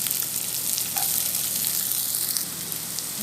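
Garlic sizzles steadily in a little oil in a frying pan on a home stove, a constant close crackling fry with no voices.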